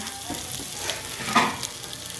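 Ginger, onion and garlic sauté in a pan as the base for chicken tinola, a steady close sizzle with a brief louder crackle midway and no talking.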